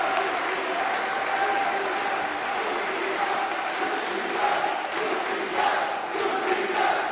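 A crowd at a pro wrestling match applauds and cheers in a continuous dense wash of clapping, with a steady hum and occasional louder swells.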